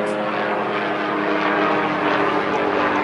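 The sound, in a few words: police helicopter flying overhead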